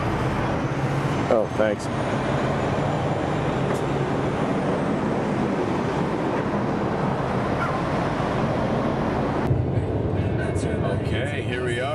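Dakar Rally support vehicle in 2010, driving on a long stretch with steady road rumble and wind noise throughout, with a brief spoken exchange inside the cabin.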